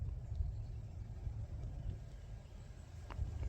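An Axial AE-5 motor paired with a HobbyWing Fusion SE in an RC crawler, creeping slowly at very low voltage, a faint steady low rumble with slight fluctuations and a few small clicks.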